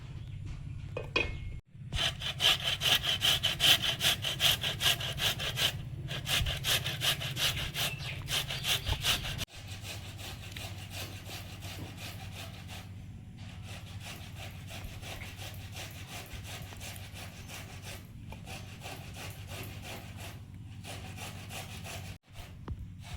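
A tomato rubbed against a hand grater in a home kitchen, giving a steady, close scraping rasp that runs almost without a break, louder and more vigorous at the start, then continuing evenly with brief pauses.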